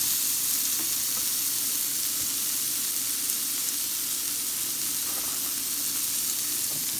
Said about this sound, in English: Let these saute in the spices.